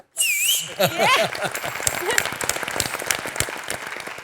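An audience on a celebrity cooking competition show bursts into applause and loud whistles, with sharp sliding whistles at the start and then steady clapping and cheering that continue for several seconds.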